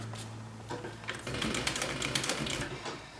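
A sewing machine stitches an upholstery seam for an exercise bench, running in a steady mechanical rattle that picks up after a short start, close and fairly quiet.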